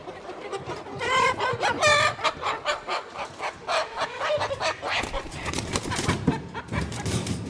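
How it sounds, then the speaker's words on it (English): A young rooster with no spurs yet crows several times close by while chickens cluck around it in a backyard flock, the birds calling in quick overlapping bursts. "Yeah, I think that is the rooster for sure."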